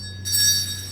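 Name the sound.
ring of a bell in a comic play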